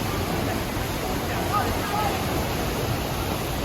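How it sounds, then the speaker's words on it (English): Rushing water at the Duden waterfalls in Antalya, Turkey, a steady, dense broadband roar that stays loud and unbroken throughout. "All you see is water and all you hear is the sound of water."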